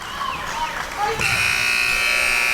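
A basketball game buzzer at the end of a period in a high school boys varsity gym, a loud sustained electronic drone starting partway through and holding steady, preceded by crowd noise and sneaker squeaks, with a commentator talking throughout.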